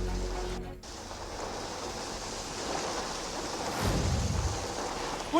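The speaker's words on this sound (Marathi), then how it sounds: "आता आपण ही दृश्य पाहतोय की पुणे शहरासह उपनगरात मोठ्या प्रमाणात अवकाळी पावसाने हजेरी लावल्याचं" Heavy unseasonal rain pours over Pune city as a continuous, even hiss with a low rumbling undertone, fairly faint and unbroken throughout.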